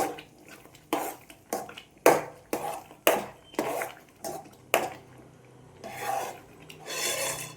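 Cardamom, cashews and raisins being stirred into kesari in a pan, repeated scraping strokes of a spoon against the metal pan, about a dozen rhythmic rasps, close and clear with brief pauses between them.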